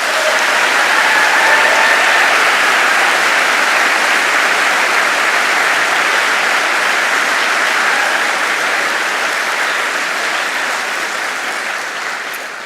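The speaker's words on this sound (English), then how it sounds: "Please give them a round of applause." Sustained audience applause for university staff at a graduation ceremony in a large hall, a dense, steady wash of clapping that holds for about twelve seconds before slowly easing off.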